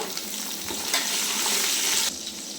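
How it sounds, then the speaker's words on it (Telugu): Onions and green chillies sizzle steadily in hot oil in a pot while dum biryani is being made, a continuous loud frying hiss with a brief surge of stirring midway and no talk. "ఉల్లిపాయలు పచ్చిమిరపాయలు వేస్తున్నా ఉల్లిపాయలు వేగిపోయాయండి"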